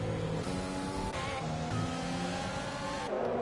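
Formula 1 cars racing past in the F1 2020 video game at the Great Britain round, a steady high engine whine with shifting revs and pass-by swells, loud and continuous.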